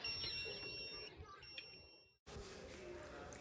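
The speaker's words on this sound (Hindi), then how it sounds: "ये था हमारा वाटर टैंक अलार्म" A homemade water tank full alarm gives a steady, high-pitched electronic signal over background noise, then cuts off abruptly, leaving a broadband hiss.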